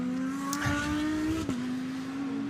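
A DTM race car driven by Muller during free practice at Monza, its engine holding a steady high drone that dips sharply mid-clip as it shifts or brakes, then settles again, heard at moderate distance.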